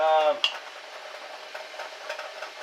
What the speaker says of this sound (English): going to mix that up